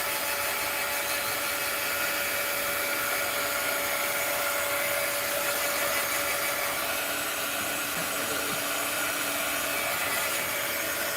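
Heat gun blowing over metallic art inks in a tray to dry them, a steady close airy roar with a faint whine, running continuously and alone.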